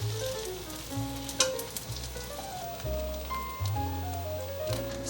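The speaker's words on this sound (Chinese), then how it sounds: "现在已经煎到剩最后一面了" Tofu frying in a pan of warm oil, browning to golden on its last side; a soft continuous sizzle with faint crackles runs beneath louder background music.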